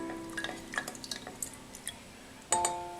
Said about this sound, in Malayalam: നാരങ്ങ ചേർത്തതിന് ശേഷം ഇതൊന്ന് ഇളക്കി കൊടുക്കാം.